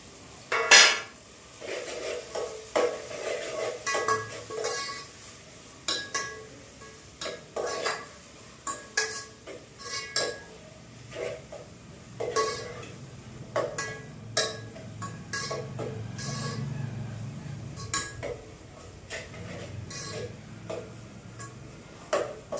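Onion tossed into a pan while cooking ringan no olo (roasted brinjal mash) in a home kitchen, with repeated metallic clinks and scrapes of a spoon stirring against the pan in an irregular rhythm, close and moderately loud, with no talking.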